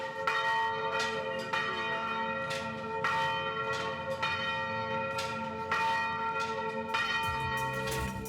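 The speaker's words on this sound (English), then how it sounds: "All the bells in the country ring in unison at noon sharp" Church bells across a country ring together at noon sharp, a dense, loud overlapping peal with repeated strikes roughly every second, sustained ringing tones layered throughout with no voices.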